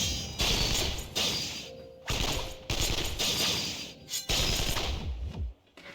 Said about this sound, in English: Is that gunfire I hear?